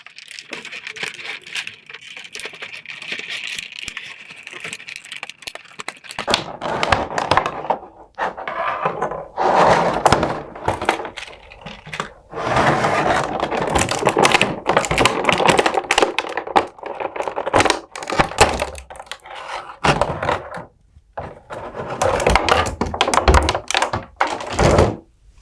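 Plastic toy parts for a Jazwares Star Wars Micro Galaxy Squadron Republic Gunship pop out of a packaging tray in loud, irregular bursts of clicks, thunks and crinkling, close up and continuous for about twenty seconds.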